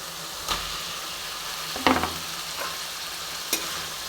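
Spice masala with yogurt sautéing in a hot pan: a steady, close hiss of sizzling runs throughout, broken by a few sharp scrapes and knocks as it is stirred.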